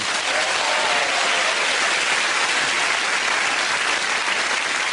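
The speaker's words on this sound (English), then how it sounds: "they're applauding" Loud, sustained applause from a television studio audience, a dense unbroken roar of clapping that holds steady throughout.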